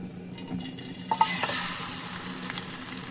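Chicken marinated with ginger-garlic paste and salt sizzles in mustard oil while being stirred in a pan, with a louder burst of spattering and a scrape of the spoon before settling into a steady fry.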